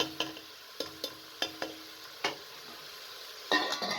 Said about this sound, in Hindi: अब आप इसके अंदर शलजम को शामिल कर लें और मज़ीद 5 से 7 मिनट तक अच्छे तरीके से भून लें।